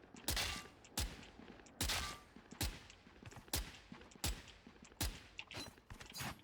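Gunshots in a shooter video game aim-training warm-up, a steady series of sharp, evenly spaced single shots at roughly one per second, crisp and close with no talking.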